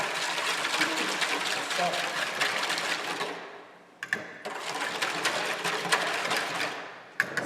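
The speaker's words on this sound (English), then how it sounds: "Then we're going to whisk that really well." A whisk beats a yeast and sugar mixture for challah dough in a bowl, a fast steady whirring rattle that pauses briefly twice and then resumes, with a short spoken word between strokes.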